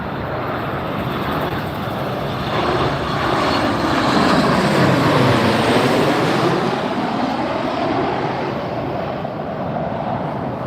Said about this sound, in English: enjoy this coverage of these crosswind landings here at Las Vegas International Airport